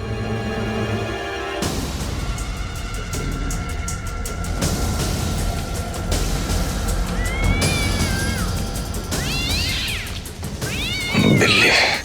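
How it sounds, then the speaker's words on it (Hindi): A cat meows several times over a steady background hum, the calls rising and falling, with a louder, harsher yowl near the end. "बिल्ली।"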